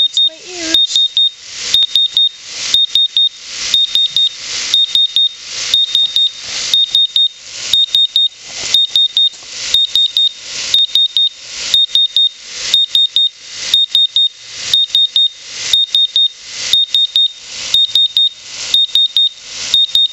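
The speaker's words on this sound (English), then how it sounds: "That would be that high-pitched buzzing noise." A gas detector alarm, reading over 70 ppm during a Fenton's reagent reaction, sounds a loud, high-pitched electronic beep in rapid repeating bursts that continue without pause for the full length.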